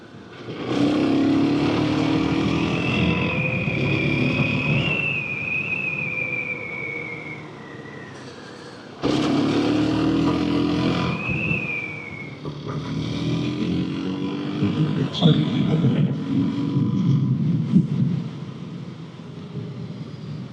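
A Suzuki DRZ400S motorcycle rides along a gravel road, its engine loud and close, revving up and easing off in two long surges with a brief lull between them.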